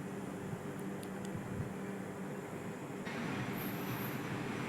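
A train pulls out of Pathankot station, a steady rumbling roll with low wheel and carriage noise throughout, nearby and continuous, with a faint high squeal near the end.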